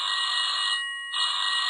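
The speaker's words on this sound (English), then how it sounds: "And our phone rings" A telephone rings in the puzzle game Cube Escape: The Mill, a bright electronic trill that sounds, pauses briefly, then rings again, loud and clean with no voices.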